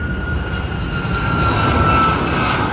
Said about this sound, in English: Good looking plane. Look at it.